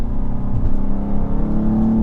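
A BMW M2 G87 sports car accelerates under throttle, its engine giving a loud, steady, rising drone with no voices over it.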